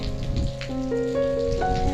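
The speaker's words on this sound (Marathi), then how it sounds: "आमच्या इथं आता आलेला आहे चांगलाच पाऊस झालाय" Steady rain patters throughout, with sustained tonal sounds layered over the wash of falling water.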